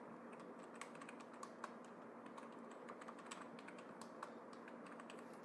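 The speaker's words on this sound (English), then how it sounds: "here I type in cell A1" Soft clicking of a computer keyboard as someone types into a spreadsheet cell, a quiet and fairly steady stream of keystrokes with a few sharper taps standing out.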